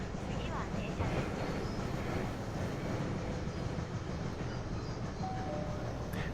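A heavy train in a train-driving video game slows under braking, a steady low rumble with faint high brake squeal near the end, continuous and fairly loud, with speech faintly present.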